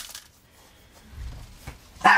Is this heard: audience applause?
no